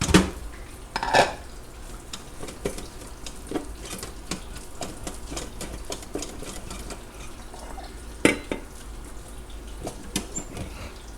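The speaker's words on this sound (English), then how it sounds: "you can go ahead and plate your rice, which I'm going to do" Rice being plated for homemade katsu curry: scattered clinks of a utensil against a dish over a soft background sizzle, with a few sharper knocks near the start and middle.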